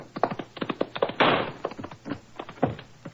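A gunshot sound effect rings out in an old-time radio Sherlock Holmes drama: one sharp, broad burst amid dramatized voices that continue around it.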